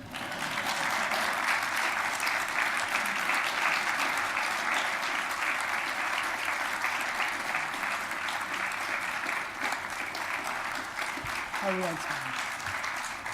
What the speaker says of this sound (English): So, thank you, please clap.